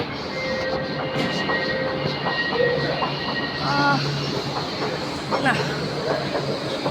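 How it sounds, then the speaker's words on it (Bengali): A train rumbles into a station with a steady mechanical roar and high squealing tones, while people talk nearby. "ট্রেন এই পাশে এসেছে"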